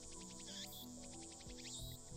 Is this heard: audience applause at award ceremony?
no